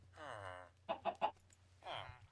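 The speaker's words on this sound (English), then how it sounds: "What are you doing with that chicken?" A Minecraft chicken gives a few close clucks, a drawn-out call, then three quick clucks and another longer call, over a low background hum.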